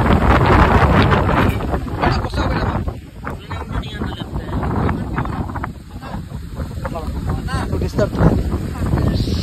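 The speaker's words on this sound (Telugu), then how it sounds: "ఫ్రెండ్స్ ఫుల్ వర్షం పడుతుంది" Heavy rain lashes an open village location in strong wind, a loud, dense roar with buffeting gusts hitting the microphone, while voices talk over it throughout.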